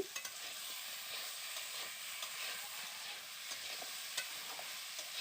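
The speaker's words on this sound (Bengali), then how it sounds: "উচ্ছে আলু বেগুনটা আমি ভালো করে কষিয়ে নিচ্ছি" Bitter gourd, potato and eggplant sauté in a pan, giving a soft steady sizzle with faint stirring scrapes throughout and no voices.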